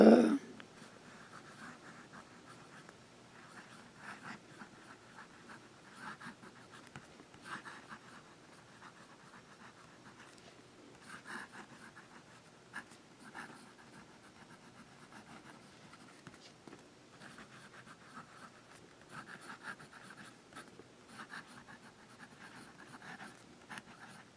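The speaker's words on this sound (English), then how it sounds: "So let's get to the writing now." A vintage Visconti Opera fountain pen nib scratches across paper in soft, close strokes, a steady run of faint scratching bursts with brief pauses between letters and lines.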